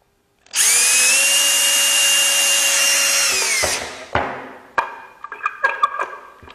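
A power drill whines loudly and steadily for a few seconds, then stops, followed by scattered light wooden clicks and taps.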